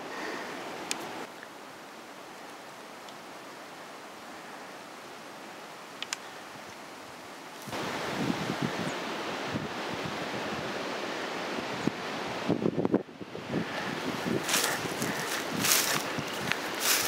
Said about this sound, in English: that's what 22-mile-an-hour sustained winds with gusts up to 40 will do.